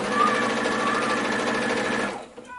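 A domestic sewing machine with a standard foot stitches a zig zag quilting pattern, running as a steady, loud mechanical whir for about two seconds before stopping abruptly, followed by faint quiet handling.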